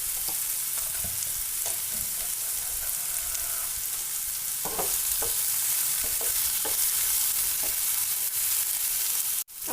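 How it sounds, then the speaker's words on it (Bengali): Pointed gourd pieces fry in a pan, giving a steady close hiss of sizzling oil with a few brief stirring clinks and scrapes, and no voices. "আমাদের পটলগুলো মাঝারি সাইজে ভাজা হয়ে গেছে"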